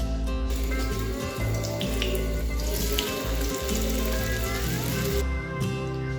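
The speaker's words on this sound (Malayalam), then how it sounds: "ഒരു പാനിൽ എണ്ണ ചൂടായതിനു ശേഷം നമ്മൾ മാറ്റി വെച്ച് ചിക്കനില്ലേ അത് ഇതിനകത്ത് ഇട്ടിട്ട് ഒന്ന് ജസ്റ്റ് ഫ്രൈ ചെയ്തെടുക്കാം" Chicken pieces sizzle steadily in hot oil in a pan for a light shallow fry, a loud, close, continuous crackle with a few brief clatters of movement.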